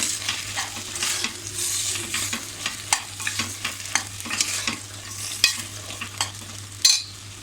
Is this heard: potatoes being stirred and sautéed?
yes